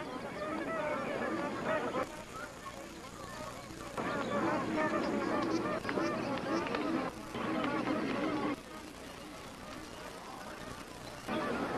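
Large flock of magpie geese gathered at shrinking wetland pools in New Guinea, a dense continuous chorus of honking calls rising and falling in waves, steady and fairly loud throughout.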